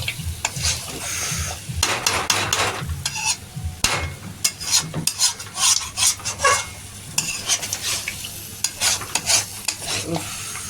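Spices are stir-fried in a pan on low heat, with repeated scraping stirs of a spatula against the pan over a soft sizzle, irregular bursts of utensil scraping close up.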